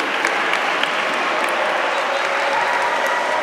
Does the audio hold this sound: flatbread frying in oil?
no